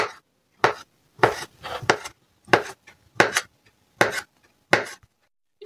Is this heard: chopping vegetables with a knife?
yes